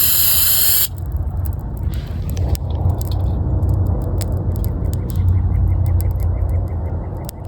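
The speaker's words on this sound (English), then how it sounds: "Watch what this brake cleaner does to this ice." Brake cleaner sprays steadily onto ice on a Nissan 720 pickup, giving a loud, continuous aerosol hiss that runs for several seconds with no talking.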